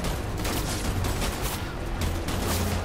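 Gunfire aimed at the player in Death Stranding, a dense, continuous rattle of shots with a low rumble underneath, steady and fairly loud throughout with no talking.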